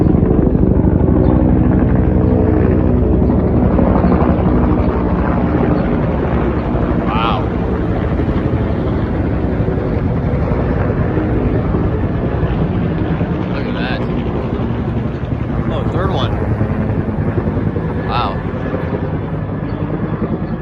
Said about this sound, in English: So, there's some choppers. Look at this. Oh, 2 of them.